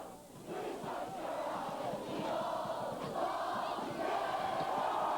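A football crowd cheers on a wet night at a high school game between New Trier and Evanston. A steady, dense roar of many voices holds throughout, with shouts rising from the stands.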